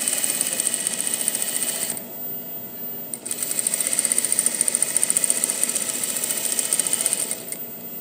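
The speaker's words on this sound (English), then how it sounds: "what I'm doing is I'm going to be doing an edge stitch right here." A sewing machine runs steadily while edge stitching a dress hem, a loud, close, continuous mechanical whir with a rapid needle rhythm, briefly easing off for about a second before resuming at full speed.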